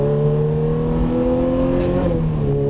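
Car accelerating on a race track during a driving course, engine note holding a steady loud drone with a rising then slightly falling pitch, heard close from inside, no talk.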